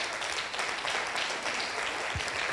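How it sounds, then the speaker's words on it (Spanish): Joyful applause from a church congregation, a thick, even burst of many people clapping at once. "Vamos a levantar ese aplauso de alegría"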